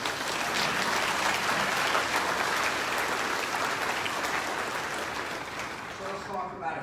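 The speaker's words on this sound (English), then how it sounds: "Let's give him a big round of applause." Audience at the opening remarks of the Oregon coastal event in 2019 applauding a congressman, dense sustained clapping with some voices under it, fading slightly at the end.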